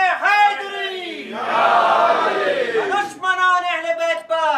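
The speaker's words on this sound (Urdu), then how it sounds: "نعرے" A crowd chants a religious slogan in unison at a Shia gathering, a loud sustained roar of many voices between stretches of a single man's speech.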